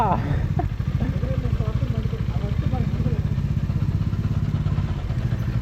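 An Aprilia RS V4 motorcycle engine runs steadily up close with a throbbing, pulsing low rumble and some clatter, while voices murmur faintly in the background.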